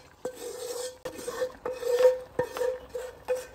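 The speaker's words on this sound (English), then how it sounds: "Now just push everything down to the soup and mix it very well until all the lumps from the ogbono is all melted." A thick ogbono soup is stirred into boiling stock with bushmeat and snail, giving repeated scraping and knocking strokes of a spoon against the pot in an irregular rhythm, close and fairly quiet, with no talk.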